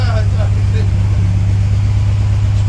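Engine of a 1938 SS Jaguar 3½ litre drophead idling while being reversed in and out: a steady, loud low hum with a constant droning tone, and brief voices at the start.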